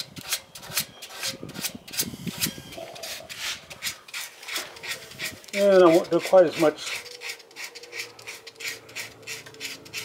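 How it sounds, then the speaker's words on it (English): Wood sanded by hand with sandpaper: repeated rhythmic scraping strokes, close and steady, while a person talks over them. "I'm gonna go back and sand by hand to get rid of those little"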